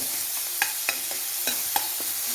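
Crushed ginger and garlic sizzle in a hot pan for a beef and plantain curry, a steady close frying hiss broken by several sharp clicks of a spoon stirring against the pan.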